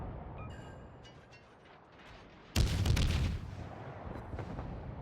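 A destroyer's artillery salvo firing in the naval battle game World of Warships, one sudden heavy boom with a rumbling tail over faint mechanical clicks and steady ambient background.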